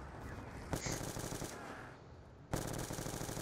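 Rapid bursts of automatic gunfire from a Call of Duty Nuketown Zombies co-op match, loud and continuous with sharp single shots standing out, a brief lull, then the firing resumes hard.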